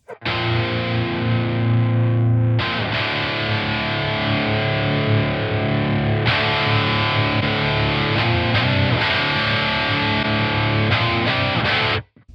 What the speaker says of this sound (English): Channel 2 is a little bit smoother.